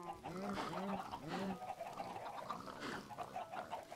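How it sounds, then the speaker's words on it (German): A chicken in the Minecraft video game clucks and squawks in a few short, repeated calls as it dies on a simple farm, over a soft background. "da stirbt das erste Huhn"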